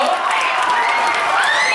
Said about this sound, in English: Yeah, give him a round of applause.